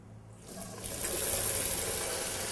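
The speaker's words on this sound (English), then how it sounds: "when I turn on my sink" Water from a turned-on sink tap starts up and builds into a steady broadband rush that continues to the end, close and fairly loud with no voices.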